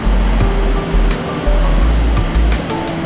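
Rushing water of Bulawan Falls in Aurora Province, a steady loud broadband roar with periodic low surges, close and continuous with no voices.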